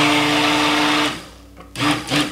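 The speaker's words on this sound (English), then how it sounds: "I'll blend this up just a little bit." A blender whirs steadily while mixing cold process soap batter with aloe, silk and sodium lactate, then cuts off and restarts in two short bursts.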